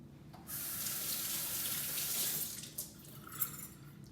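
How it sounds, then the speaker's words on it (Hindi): Hands being washed under a running kitchen tap, a loud steady hiss of flowing water that starts abruptly, runs for about two seconds, then stops, followed by a few small splashes and clicks. "मैं ज़रा हाथ धो लूँ।"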